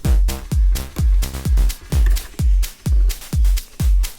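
A Moog Model D synthesizer square-wave tone with noise layered on, pulsing in an even repeating rhythm of about nine punchy, bass-heavy hits with a hissy edge, heard alone with no talking.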